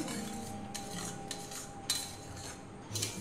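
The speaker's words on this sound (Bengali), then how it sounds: "দইটাও দেওয়ার পরে ভালো করে নাড়তে হবে" Yogurt being stirred into a paneer curry in a pan, with a spoon clinking and scraping against the metal in sharp, intermittent strokes over a low steady background.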